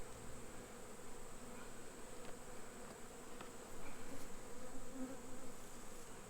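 Honey bees buzz steadily around a honey frame lifted from the hive during autumn hive inspection, a dense continuous hum that swells slightly partway through, with no talking.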